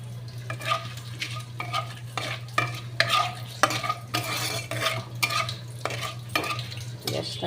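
A utensil scrapes and stirs fried cauliflower and potatoes in a pan, with repeated rhythmic strokes over a soft sizzle and a steady low hum, close by and with no talk.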